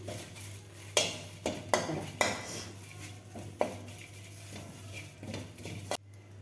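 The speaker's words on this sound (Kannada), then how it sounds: "ಸ್ವಲ್ಪ ಡ್ರೈ ಫ್ರೈ ಮಾಡ್ಕೊತಾಯಿದ್ದೀನಿ" Poha being dry roasted in a pan, with a spoon or spatula striking the metal in several sharp clanks and scrapes over a steady low hum, close and moderately loud, no talking.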